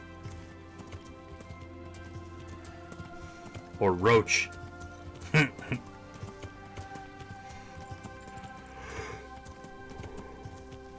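Horse hooves clip-clop at a steady pace in a video game, a soft rhythmic patter under a game score, while someone briefly speaks over it.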